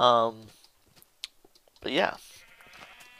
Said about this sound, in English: Got both of our colors of sheep in there.